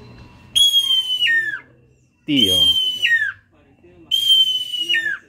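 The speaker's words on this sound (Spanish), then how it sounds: "El instrumento se llama totocuic y este es su canto." Three loud, sustained calls on a totocuic whistle, each holding a high tone before gliding downward, separated by short pauses; a single word is spoken.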